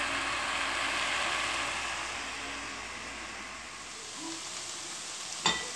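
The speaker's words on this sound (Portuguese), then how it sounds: "E aqui tá fritando, tá vendo?" Gnocchi fry in a pan with a steady, fairly quiet sizzle that fades slightly toward the end, broken by one sharp clink of a utensil near the finish.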